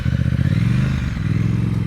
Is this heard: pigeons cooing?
no